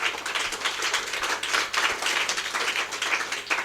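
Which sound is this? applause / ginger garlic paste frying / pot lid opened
applause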